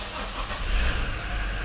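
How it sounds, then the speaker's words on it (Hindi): A 2023 Toyota Fortuner GR engine catching and settling into a steady, fairly loud running rumble over about two seconds, alone with no talking. "तो ये था इस गाड़ी का स्टार्टअप।"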